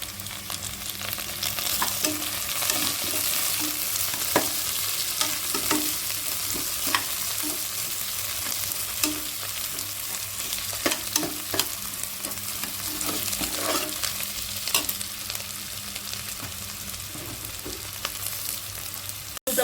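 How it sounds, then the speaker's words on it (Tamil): Onion frying in a pan for vegetable biryani, a continuous close sizzle punctuated by repeated scraping and stirring knocks of a spoon against the pan. "பொன்னிறமாக வதங்கிட்டு வெங்காயம் இந்த அளவுக்கு வதங்கிக்கணும்."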